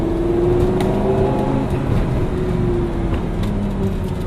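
A Lamborghini Gallardo engine droning steadily while driving at night, a continuous loud low rumble with a slowly shifting engine tone and no talking.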